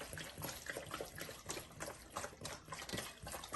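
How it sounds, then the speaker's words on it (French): Water is poured onto tamarind to make tamarind syrup, a soft, faint, continuous splashing trickle with uneven gurgles, close by and without talk. "Je mets l'eau."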